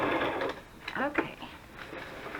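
A sewing machine stitches through paper journal pages, its fast whirring run starting and stopping in short bursts, with a voice talking over parts of it.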